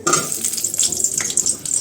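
Potatoes sizzle and spit in hot mustard oil, with bursts of crackling and occasional stirring scrapes close by.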